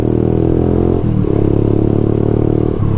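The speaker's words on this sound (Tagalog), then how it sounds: "Rapid backfire na mabagal lang yun." Kawasaki Rouser 180 motorcycle engine revving while standing still, giving a loud, steady drone with a slow rapid backfire, its tone dropping and recovering twice, with no voices.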